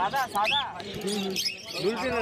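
Cockatiels and finches at a crowded bird market chirp and tweet in quick, bright bursts close by, mixed with people talking throughout.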